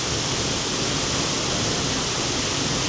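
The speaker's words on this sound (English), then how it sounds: "my first stop in Iceland, and the mighty Seljalandsfoss waterfall" Seljalandsfoss waterfall in Iceland in winter roars as a dense, continuous wash of falling water, loud and unbroken throughout.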